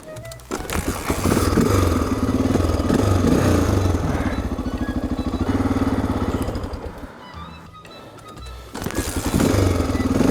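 A kick-start-only motorbike engine catches and runs loud and close, its rapid chugging pulses rising and falling as the throttle is blipped, dropping toward idle and then revving again at the end.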